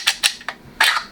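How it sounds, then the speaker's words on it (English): Magazine inserted into a Grass Snake Mk1 blaster with custom grip plates: a few sharp plastic clicks and snaps in quick succession, close and fairly loud, with no talk. "Mag goes in."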